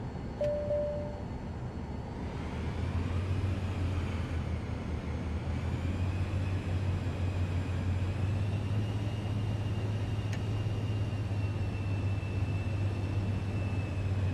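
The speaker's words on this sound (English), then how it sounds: "Let's go ahead and taxi to the runway." In a flight simulator game, an aircraft taxis toward the runway at Aspen, its engine a steady droning hum with a faint higher whine that rises and holds for the whole stretch, no talking.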